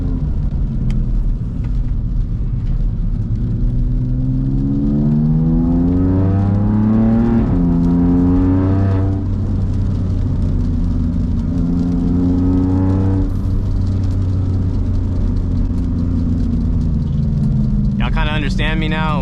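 BMW S55 engine with an equal length valvetronic exhaust, loud close revving that climbs and falls in repeated sweeps over a steady droning rumble, with people talking near the end.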